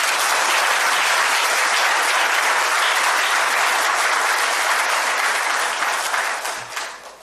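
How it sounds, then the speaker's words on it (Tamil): A full hall bursts into loud, sustained applause at an awards ceremony, a thick wash of clapping that holds steady for several seconds before tapering off at the end. "இன்னைக்கு இந்த அரங்கு நிறைஞ்ச கைத்தட்டலும்"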